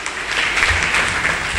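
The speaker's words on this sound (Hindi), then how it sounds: "बड़े की जोरदार तालियां खुदा के जलाल के लिए" A congregation at a church sermon applauds loudly in a short, dense burst of clapping that fills the hall.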